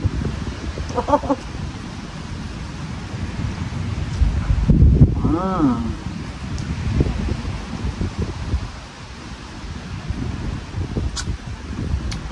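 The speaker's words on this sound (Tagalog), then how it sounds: "Mahangin dito mga be. Ang sarap ng hangin." Wind blows steadily through leaves with a rustling hiss, while a rooster crows briefly in the distance and a person makes a short sound.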